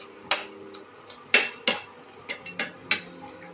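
A metal lid is set down on a cooking pot of simmering green mango chutney. It gives several sharp clinks and taps, some single and some in quick pairs, close by and fairly quiet, with no voices.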